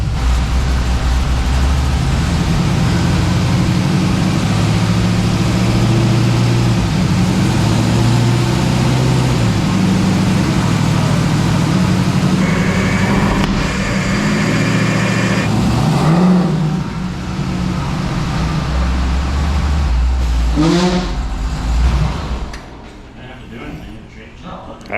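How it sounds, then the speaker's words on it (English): A supercharged LS3 V8 in a slammed 1972 Chevy C10 roars on a dyno, a loud sustained drone climbing through the gears before cutting off near the end, with voices mixed in. "This is our first attempt on our first dyno run."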